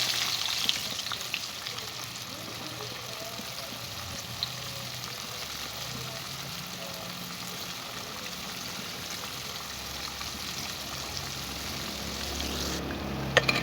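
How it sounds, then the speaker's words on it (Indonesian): Flour-battered tempe frying in hot oil, a steady, quiet crackling sizzle throughout with no voices. "Lanjut goreng lagi tempe balur tepung lainnya sampai selesai."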